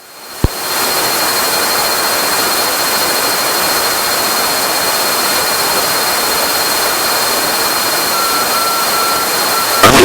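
A Cessna 340 twin-engine aircraft in flight with the right engine's throttle advanced, producing a loud, steady, even engine roar that fills the cabin without a break.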